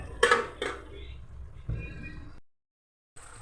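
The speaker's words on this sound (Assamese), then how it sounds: "ঢাকনিখন মাৰি দিম।" A lid is set on a pot of simmering chicken curry, two quick metallic clinks followed by a softer rattle, close by, then quiet.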